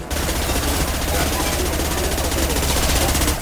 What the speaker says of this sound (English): He's gunning down his own crew to keep control?